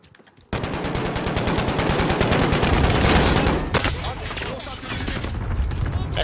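Sustained rapid automatic gunfire in the Call of Duty Warzone video game, loud and continuous for several seconds, with a brief gap and more bursts trailing off afterward.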